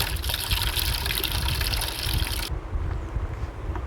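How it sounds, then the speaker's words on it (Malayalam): Water drawn from a well gushes and trickles loudly into a bottle up close. The flow pours steadily, then its bright splash drops away midway while a lower trickle continues, with no talk. "കിണറ്റിൽ നിന്ന് കോരുന്ന വെള്ളം കുപ്പിയിലാക്കി"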